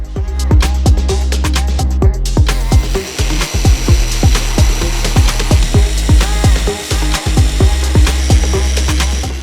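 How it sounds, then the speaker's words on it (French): A metal band saw cutting square steel tubes, a loud, continuous grinding rasp with a rapid, repeating rhythmic pulse throughout, close by. "nous utilisons la scie à ruban pour métal"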